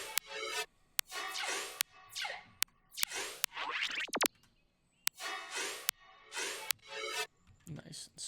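Heavy dubstep drop effects from an explosive ego-style track, with bursts of bright, sweeping synth zaps and laser-like chirps separated by sharp clicks and short gaps, loud and dense.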